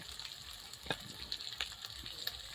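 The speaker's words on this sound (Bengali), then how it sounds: "এখন দিয়ে কিছুক্ষণ নাড়াচাড়া করি।" Cabbage stir-fried in a pan gives a faint, steady sizzle, with soft scraping clicks as it is stirred. No one speaks.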